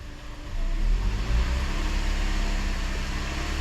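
A 2009 Toyota Corolla engine with a lean fault holds a steady raised idle near 2,500 RPM, a continuous even hum with a faint rise at the start.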